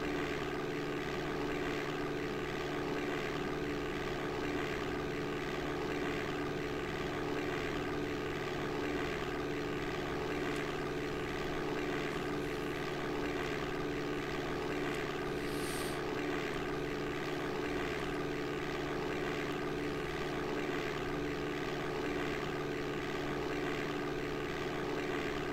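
In DOS Flight Simulator 5.1, a propeller aircraft engine drones at a constant, even pitch throughout the takeoff roll, a dense steady hum with no talk.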